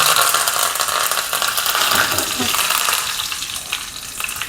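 A tempering of mustard seeds, fenugreek seeds, two red chilies and curry leaves crackles and sizzles loudly in hot oil, a dense continuous spitting that eases slightly toward the end. No voices.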